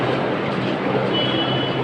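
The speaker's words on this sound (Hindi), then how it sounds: "ये चढ़ गया हम मेट्रो में" Inside a moving metro train: a dense, continuous rumble and rushing roar of the carriage with a faint high squeal, loud and close.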